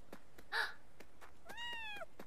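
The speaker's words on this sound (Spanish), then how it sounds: "Era un gato, no era un escorpión, era un gato." A cat meows faintly nearby, a short cry followed by a longer rising-and-falling meow, against quiet room tone with a few soft ticks.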